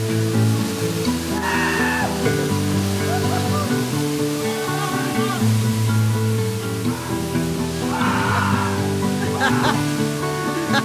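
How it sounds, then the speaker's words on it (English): A waterfall roars as a loud, steady broadband rush throughout, with voices and a few other tonal sounds layered on top of it. "I think we're gonna go in under the waterfall."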